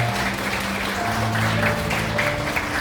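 Guests at a wedding ceremony in a wedding hall clap in a steady, dense patter that fills the room at moderate loudness, with a low sustained tone of background music underneath throughout.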